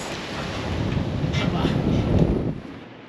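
Strong typhoon wind roars outside a closed window in Taiwan, a steady broadband rush that swells slightly and then eases near the end.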